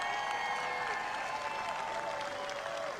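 A crowd at an outdoor Donald Trump rally in Butler, Pennsylvania claps steadily, heard faint and somewhat distant, with voices and cheering tones mixed into the wash of applause.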